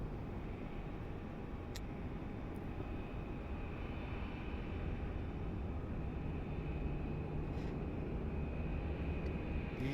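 A Boeing 737 Max 8 airliner taking off at Phoenix Sky Harbor in the Microsoft Flight Simulator 2024 game, heard as a steady, dense engine roar with a constant whine above it, loud and unbroken for the whole stretch.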